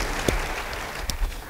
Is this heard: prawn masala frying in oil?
no